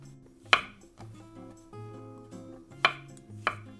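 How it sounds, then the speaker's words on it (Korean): A knife slices a single shiitake mushroom on a cutting board, giving three distinct sharp chopping knocks spaced apart over a quiet background with faint kitchen hum. "오늘은 저는 표고버섯 하나만 쓰겠습니다. 일단 꼭다리만 띄고요. 대충 편하게 썰어주세요."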